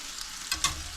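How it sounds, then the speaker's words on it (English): Grits thickening in a pan for Cajun shrimp and grits are stirred, a quiet bubbling with two short scraping strokes of the spoon, close and alone. "we're going to kind of keep stirring and let this kind of thicken up"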